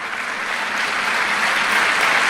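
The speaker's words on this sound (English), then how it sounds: "a big round of applause for the host here" An audience of students at a live event with a minister applauds the host, a continuous wash of dense clapping from many hands, even and sustained throughout.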